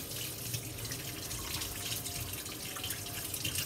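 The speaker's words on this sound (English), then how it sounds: "Need to wash my hands" Running water from a tap splashes steadily over hands being washed in a sink, a continuous close hiss with small irregular spatters and no talking.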